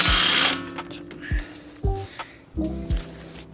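A wrench works a 14 mm tie rod nut on a Mazda 3, giving a few separate metallic clicks and ratcheting bursts with short gaps between them.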